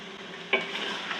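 Ginger chicken with dry ginger, turmeric and crushed red chillies being stirred in a frying pan, a soft steady scraping and sizzle with one louder clatter midway, close and alone.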